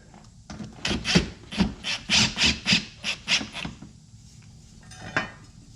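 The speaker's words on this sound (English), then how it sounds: "so tighten up our screws" Close squeaky grinding bursts from screws being tightened into a RallyArmor mudflap on a 2020 Subaru Crosstrek, around ten short strokes in a quick rhythm, then a pause and one final burst.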